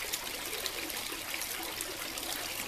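A tiered garden water fountain splashing and trickling, an even, continuous wash of falling water close by, steady without pauses and with no voices.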